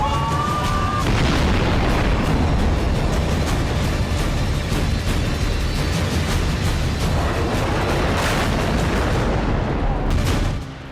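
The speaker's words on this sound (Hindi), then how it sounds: "खाड़ी देशों में कोई ऐसा दिन नहीं गुजरता जब बारूदी धमाके ना हो।" Dense, continuous booming and crackling of explosive blasts, loud and relentless like a sustained bombardment, with sharp louder bursts standing out near the middle and end, and no talk.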